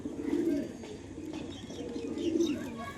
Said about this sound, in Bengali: এটাও একটা নর পায়রা